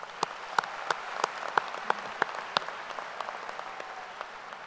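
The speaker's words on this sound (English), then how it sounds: "let's start by giving the provost and all the faculty here a huge round of applause." A commencement audience at a business school graduation claps for the provost and faculty. Sparse individual claps stand out at a fairly even rhythm over a softer wash of applause, at a moderate distance.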